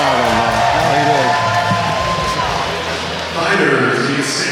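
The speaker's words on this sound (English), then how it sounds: "Crowd's loving it." A crowd at an exhibition fight in Pittsburgh cheers and whoops loudly and steadily, with an announcer's voice talking over the noise.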